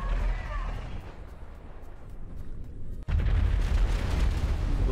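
A huge explosion in GTA 5 erupts suddenly after a brief quiet dip and gives way to a loud, sustained, roaring rumble that fills the rest of the moment.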